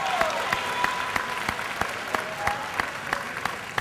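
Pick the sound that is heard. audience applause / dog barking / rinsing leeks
audience applause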